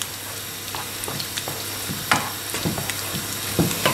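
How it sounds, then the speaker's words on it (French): Starch-thickened sauce for scallop and shrimp vol-au-vent is stirred in a pan, with a soft steady bubbling sizzle broken by scattered scraping and tapping knocks of the spoon against the pan. "Je mélange aussitôt pour éviter d'avoir des grumeaux dans la sauce."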